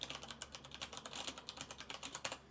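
Rapid, close keystrokes clatter on a computer keyboard in a quick, uneven run of crisp clicks, with no talk over them.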